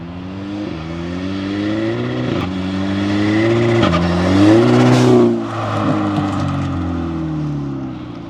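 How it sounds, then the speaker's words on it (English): Audi TT engine with a RamAir induction intake, revving loud and close through several gear changes, with the pitch climbing and dropping and a turbo flutter as it lifts off boost. "Intake is definitely louder than it was before."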